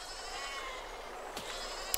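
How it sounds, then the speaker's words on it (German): Sheep bleating in the video game Besiege, a steady wavering bleat held under a constant noisy backdrop, with a brief click near the end. "ihr dämlichen Schafe"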